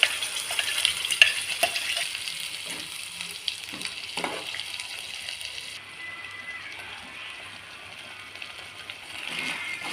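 Ground mint paste fries in a pan, a fairly quiet sizzle under occasional stirring clicks and scrapes, with the hiss dropping lower partway through, and no talking.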